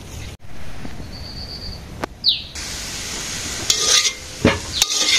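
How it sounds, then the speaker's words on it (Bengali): Leafy greens frying with onion and green chilli in a pan over a village cooking fire, a soft steady sizzle broken by scraping stirs and clinks, with faint birdsong in the background. "শাক ভাজি হয়ে গেছে, শাক ভাজি তো নামে ফেলবো। পেঁয়াজ দিয়ে কাঁচামরিচ দিয়ে ভাজলাম।"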